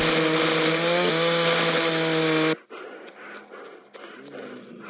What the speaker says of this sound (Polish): To jest piła łańcuchowa. Będziemy nią ciąć wszystkie zombie.